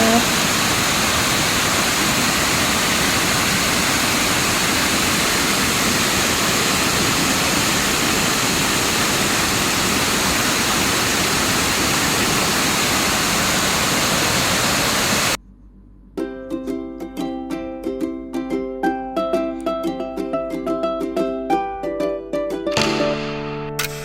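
Mae Ya waterfall on Doi Inthanon, Chiang Mai, roars in the rainy season as a steady, dense rush of falling water for about fifteen seconds, then gives way to music.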